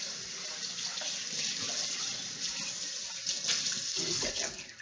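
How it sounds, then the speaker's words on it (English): Tap water runs steadily into a sink as a container from a borax crystal project is rinsed out, a continuous close splashing hiss with slight surges and no talking. "so I'm just gonna rinse it"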